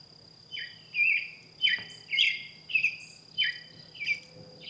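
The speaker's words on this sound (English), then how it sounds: "then you hear the birds." Repeated bird calls outdoors at a campsite, about seven short chirping phrases in steady succession over a constant high insect-like drone, fairly close and clear.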